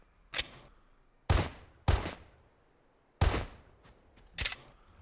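A rat gun in the post-apocalyptic video game Lorn Vale fires five sharp, close shots at uneven intervals, each a loud crack with a short decaying tail, separated by near silence.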